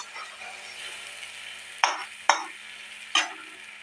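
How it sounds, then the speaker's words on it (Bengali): Potatoes frying in a pan: a steady soft sizzle with three sharp scraping stir strokes near the end, close and fairly loud. "এবার আলুটা ভেজে নেব"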